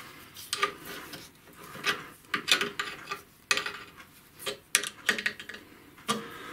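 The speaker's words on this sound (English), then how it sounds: "that goes down until you can feel it and hear it just rubbing" A plain brass pad of a lathe fixed steady rubbing on the spinning workpiece, giving a series of short scraping, rasping strokes at an uneven rhythm, close and moderately loud, with no talking.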